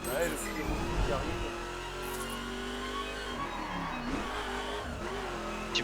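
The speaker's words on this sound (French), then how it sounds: "J'ai entendu un vroom." Car engine revving and racing past in The Crew video game during a multiplayer Ferrari duel, a steady mid-level engine drone with surges, heard under people talking.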